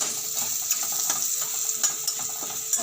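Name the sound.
onion, chili, garlic and cumin sautéing in pan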